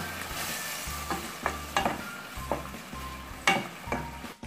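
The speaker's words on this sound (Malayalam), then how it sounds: "ഒന്ന് ചൂടായി കഴിയുമ്പോൾ നമ്മൾ അരച്ചു വെച്ച മസാല ഇതിലേക്ക് ചേർത്ത് കൊടുക്കാം." Ground masala paste sizzles loudly in a hot pan for a mushroom kappa biryani, a steady frying hiss broken by repeated stirring scrapes and spattering bursts, with no voices.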